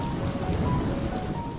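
Monsoon rain falling in Delhi, a loud dense continuous hiss of drops hitting surfaces, steady and unbroken.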